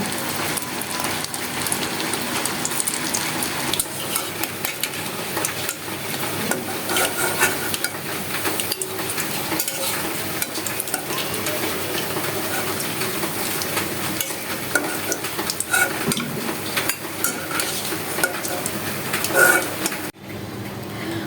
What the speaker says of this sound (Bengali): এভাবেই আমি সবগুলো কাবাব ভেজে নিব